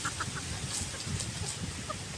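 Bantam hen clucking nearby in short soft repeated clucks over a steady background hiss.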